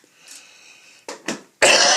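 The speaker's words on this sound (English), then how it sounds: "sorry about the cough, I've still got the cough" A person coughs in a room where a model railway layout with a Class 24 locomotive is being shown, with a faint steady hum first, then two short coughs and a louder rough burst close to the microphone.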